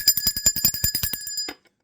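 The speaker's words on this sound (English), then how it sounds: "Let's ring the bell for that." A bicycle-style bell rings in a rapid burst of about ten metallic dings with a steady bright tone, fairly loud and close, then stops abruptly into silence.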